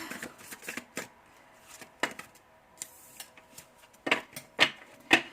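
Tarot cards are shuffled and riffled in quick, crisp bursts with brief pauses in between, close up and with no talking.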